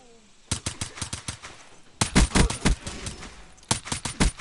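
Rapid bursts of video game gunfire in a minigame, several sharp rattling volleys separated by short pauses, loud and close.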